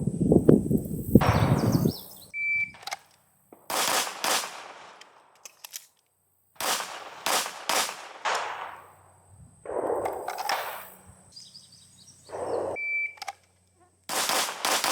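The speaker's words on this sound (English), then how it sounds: "I'm going to do on buzzer, draw, double, double, double, so 6 shots" Pistol shots fired on a buzzer at a training range: a beep, then sharp reports that come mostly in quick doubles, each pair separated by short pauses, with a second beep later on.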